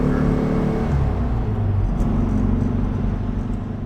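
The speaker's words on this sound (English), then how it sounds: "I love the sound of the Volkswagen" A Volkswagen Type 34 Karmann Ghia engine hums and rumbles steadily at close range, with a low drone that eases off slightly toward the end.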